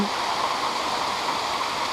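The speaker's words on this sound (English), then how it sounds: "It's so cool on a hot July day to be by the waterfall." Waterfall at Baskins Creek Falls, a steady, loud, dense rush of falling water close by, continuous and unbroken with no voices.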